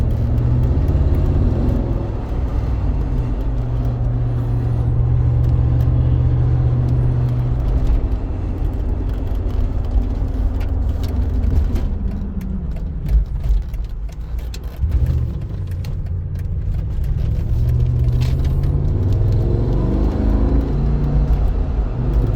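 Steady rushing wind noise from the moonroof inside a 2007 Mercedes G55 AMG while driving, over a constant low engine and road rumble that swells and fades slightly, with no talking.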